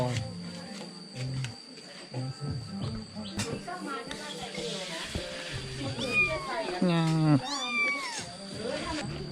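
A cat meows repeatedly in high, wavering cries, mixed with people talking and background restaurant noise in a rural Thai village.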